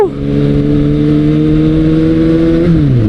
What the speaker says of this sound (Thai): ท่อสั้นก็ลั่นสี่สูบเรียงวู้